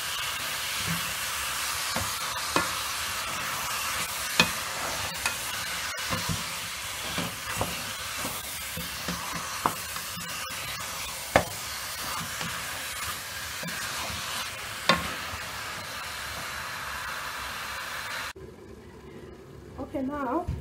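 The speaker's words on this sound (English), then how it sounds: "I'll just have to let it simmer for 5 minutes" A pot of beef masala simmers with a continuous close hissing, bubbling wash, punctuated by occasional clinks and knocks, while a person talks over it.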